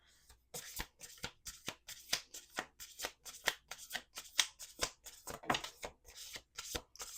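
A deck of cards is riffled and bridged repeatedly in quick rustling bursts, close and fairly quiet, with a brief murmur in the background.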